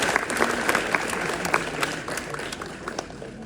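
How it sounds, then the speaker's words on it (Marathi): Audience applause after a counselling talk, a dense patter of many hands clapping steadily for the full length, fairly loud and continuous with no voices over it. "please clap for this people, please टाळ्या वाजवा"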